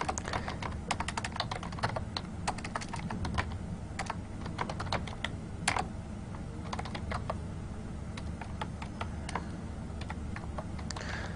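Steady, rapid typing on a computer keyboard while a Cisco IOS router command is entered, the key clicks close and continuous with one or two louder strokes, no voice heard.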